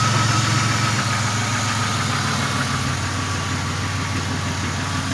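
A Pontiac Grand Prix engine idles steadily nearby with a K&N air filter fitted, a fine, rapid lifter tick running through the even mechanical drone.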